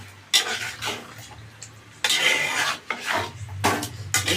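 Boiled potatoes being stirred in a cooking pot, scraping and rasping strokes in uneven bursts separated by short pauses, close and fairly loud, with a low steady hum underneath.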